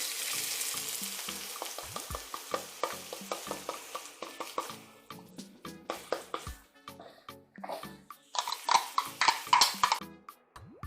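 Garlic cloves and half an onion frying in a pan over medium heat, a close sizzle punctuated by repeated scraping and clacking stirring strokes, growing louder and busier toward the end, with no talk.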